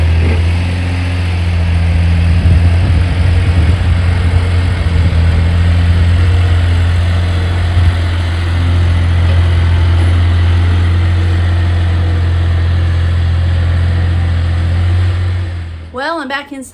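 A tractor engine runs steadily and loudly, a low droning rumble that holds throughout, ending with a brief clatter.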